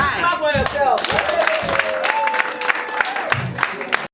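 Clapping from an audience at an annual general meeting and anniversary event, steady and close, with voices, cheering and a few whistles running through it.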